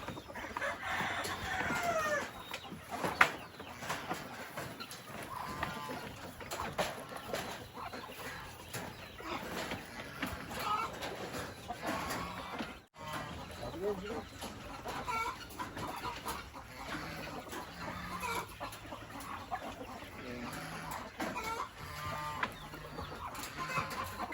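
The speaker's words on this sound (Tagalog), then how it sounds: "Ito yung dalawang inahin ko." Hens cluck on and off in a yard, with occasional louder squawks and a distant rooster crow over a busy background hum.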